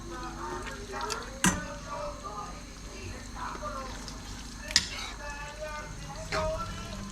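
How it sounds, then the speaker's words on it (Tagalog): Spaghetti pasta and sauce stirred together in a hot pan over the fire, a soft continuous sizzle with a couple of sharp clinks of utensil on pan, and people talking throughout. "Mas maganda kasing haluin muna sa kawali na may apoy yung pasta at sauce para mas umano yung lasa, tumalab."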